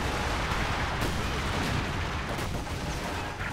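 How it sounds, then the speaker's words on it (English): Incendiary barrage in the World War II strategy video game Company of Heroes 2, a dense continuous roar of explosions and crackling fire with scattered gunfire underneath, loud and unbroken throughout. "We got another incendiary here trying to break up the assault."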